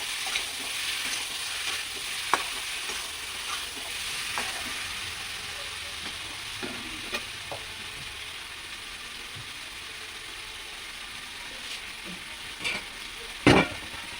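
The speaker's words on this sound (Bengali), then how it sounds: "আর একটু নেড়ে চেড়ে ভালো করে কষিয়ে নেব।" Goat meat sizzles steadily as it is stirred and fried in a pan. The frying hiss is continuous, with occasional scraping clicks of the spoon against the pan and no talking.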